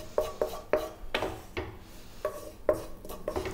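Flour roux stirred continuously in a pan for a cauliflower and broccoli cheese sauce, a run of close scraping, tapping strokes of a utensil against the pan at an uneven rhythm, with no talk.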